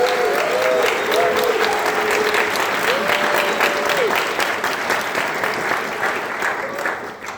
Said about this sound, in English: would we give him a round of applause?